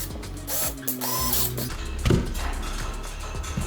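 A screwdriver drives a screw into a door during a rattan-panel restoration of an entertainment unit, making loud close ratcheting and grinding clicks in a burst of turns, then a steady grinding whir.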